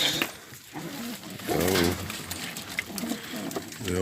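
Pigeons give throaty, rolling coos up close, several phrases in a row over steady outdoor background noise while breadfruit roasts nearby.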